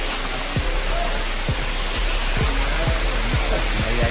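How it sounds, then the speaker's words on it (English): Constant hissing rush of a small waterfall pouring nearby, loud and unbroken, with a few brief low thumps breaking through the steady wash. "Small waterfall."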